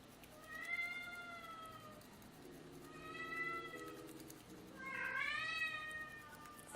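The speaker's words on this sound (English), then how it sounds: "Sorry about my cat, guys." A hungry pet cat meows three times in a row, drawn-out and fairly close, the last call rising and more insistent, against a quiet indoor background.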